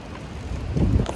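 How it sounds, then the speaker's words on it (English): Gusty wind buffets the microphone, a low rumbling roar that swells louder toward the end of the short clip. "Really shitty weather. This is like our winter weather. Windy."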